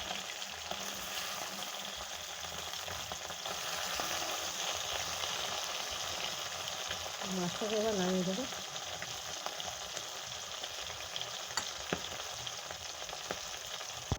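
Tilapia fish frying in hot oil gives a soft, steady sizzle that runs throughout, fairly quiet, with a voice speaking briefly over it midway.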